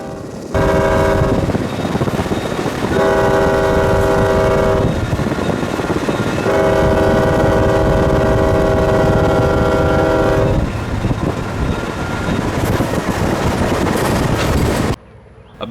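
A heavy Canadian National freight train rumbles steadily past on the Yazoo Subdivision, its loud horn blaring in several long blasts over the continuous roar of the locomotive and wagons.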